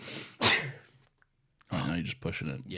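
A single sharp sneeze bursts out early, followed by a pause and then people talking.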